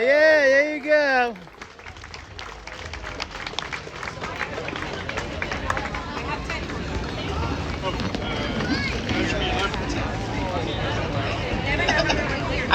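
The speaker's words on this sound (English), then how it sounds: "Big round of applause for our under 18 crew" An audience applauds and cheers for the under-18 costume contestants at a fan festival, a broad, steady wash of clapping and crowd noise that follows a brief shout and runs to the end.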